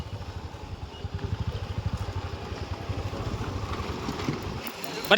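A scooter rides off outside a polytechnic college, its engine putter pulsing in quick, even beats under steady wind noise before it fades near the end.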